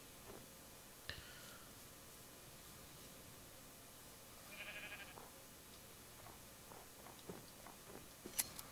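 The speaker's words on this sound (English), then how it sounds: "Oh, I'm hearing the ones that you sheared." Sheared sheep in Minecraft let out a few faint, scattered bleats against steady game ambience, with brief clicks and small sounds in between and no one talking.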